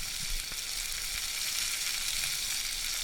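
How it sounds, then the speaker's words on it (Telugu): Green chilli pieces frying in hot oil for a ridge gourd and moong dal curry, a steady, close, hissing sizzle that holds evenly throughout with no talking. "ఇప్పుడు పచ్చిమిర్చి ముక్కలు వేసి 1 నిమిషం పాటు వేయించుకోవాలి."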